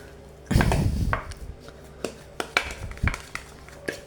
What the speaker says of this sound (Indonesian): Oke, aduk sekalis mungkin kawan.